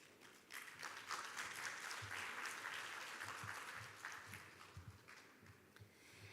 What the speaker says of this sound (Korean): 좋은 강연 들려주신 라트프라디드 5G 월드 얼라이언스 회장님께 다시 한번 큰 박수 부탁드리겠습니다